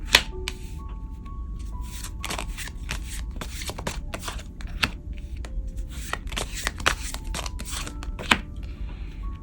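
Tarot cards shuffled by hand at close range, a run of crisp riffling bursts and soft slides repeating irregularly, with no talking.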